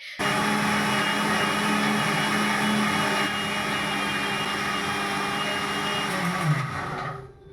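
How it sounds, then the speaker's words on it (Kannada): A mixer grinder grinding chutney with a little water whirs at high speed in one continuous loud drone, then winds down and stops near the end. "ಚೆನ್ನಾಗೆಲ್ಲ ಗ್ರೈಂಡ್ ಮಾಡ್ಕೊಳ್ತಾ ಇದ್ದೀನಿ ಮಿಕ್ಸಿಲಿ"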